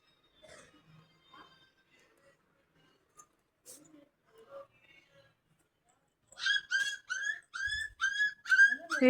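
Quiet voices murmur briefly, then a run of high, thin puppy whimpers and yips repeats quickly and close by.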